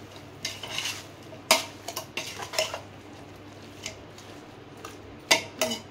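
Chicken biryani masala being mixed in a pot, heard as scattered metallic spoon scrapes and clinks against the vessel, with several sharper knocks spaced irregularly, close and moderately loud with no talking.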